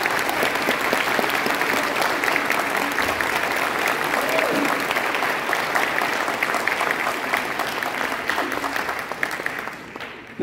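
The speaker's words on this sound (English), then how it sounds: "let's give one more round of applause for the veterans in the audience" Sustained audience applause for veterans at a big band jazz concert, a dense steady clapping from a large crowd that holds for about ten seconds before tapering off at the end.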